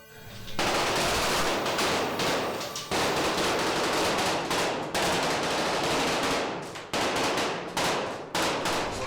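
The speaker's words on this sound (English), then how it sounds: "These bricks will blow apart that we're pre-rigging on the other side" Pre-rigged bricks blow apart in a pyrotechnic effect on a Blade film set, a loud, dense crackle of rapid bursts and clattering debris that lasts several seconds with brief gaps.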